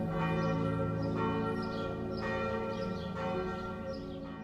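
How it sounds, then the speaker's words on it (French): Village church bells ring at noon, with repeated strikes sounding at a steady rhythm amid rich, lingering overtones, moderately distant and alone without voices. "Les cloches de l'église sonnent comme à tous les jours."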